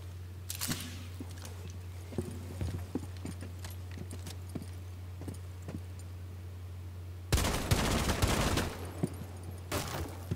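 Gunfire in the Rainbow Six Siege video game, scattered faint distant shots over a steady hum, then a loud dense burst of rapid fire near the end.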